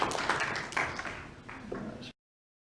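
A brief round of hand clapping from a small group at a community board meeting, a burst of close, sharp claps for about two seconds that then cuts off abruptly.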